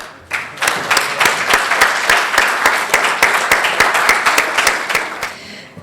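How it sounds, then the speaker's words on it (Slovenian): An audience applauds volunteer award recipients at a State Council plaque ceremony, a loud close round of clapping with some sharp individual claps standing out, lasting several seconds before fading. "Morda pa lahko prejemnicam in prejemnikom še enkrat zaploskamo."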